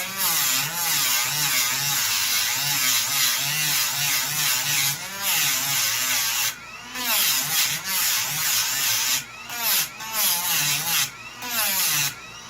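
A power tool shaves down the corners of a part: a loud, continuous high whine that rises and falls in pitch as it bites, broken by a few brief pauses, close up with no talking.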